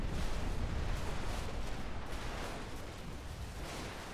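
A big explosion in Crysis rolls on as a dense, loud rumbling roar that fills the whole stretch and slowly fades toward the end.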